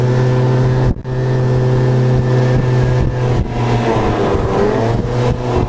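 A passing car's engine revs hard and roars close by, droning loudly and steadily, with brief dips as it shifts before revving again, heard from a motorcycle on hill roads.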